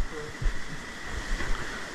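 A waterfall inside an abandoned sulphur mine gives a faint, steady rush of falling water, a low even wash with small splashy thumps and no other sound above it.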